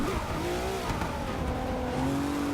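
A Nissan GT-R Nismo in a racing video game slows for a corner at Hockenheim, its engine note droning and dropping steadily under braking with faint tire noise, loud and continuous with no voice.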